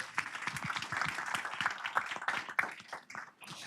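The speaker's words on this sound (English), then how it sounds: "Let's give Pat Collins another round of applause" An audience at a winter-readiness community training session in DC claps for a guest, a fairly quiet, moderately dense patter of hands with a few sharper individual claps standing out.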